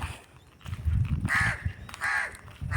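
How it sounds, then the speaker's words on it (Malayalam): A crow caws a couple of times nearby, harsh and fairly loud, over faint background rumble. "ഒരു കാക്ക"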